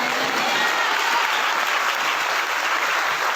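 A church congregation claps together in a dense, steady burst of applause that fills the room evenly, with crowd noise but no distinct speech over it.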